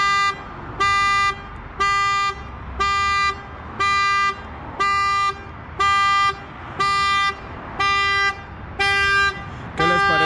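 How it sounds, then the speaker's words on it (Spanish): A Chevrolet Spark Activ's horn honks in a steady rhythm, triggered remotely through OnStar, about ten evenly spaced blasts of roughly half a second each, loud and close. "Ya activamos el claxon y las luces."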